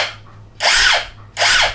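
An AST 18BX cordless impact drill runs in two loud, close bursts of whirring motor noise separated by a short quieter pause, with no voices.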